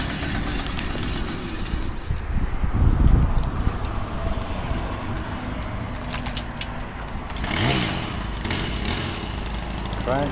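Small engines on used lawn care equipment such as a hedge trimmer and a blower crank and run, giving a rough, uneven motor drone with bursts of revving, close by and without speech.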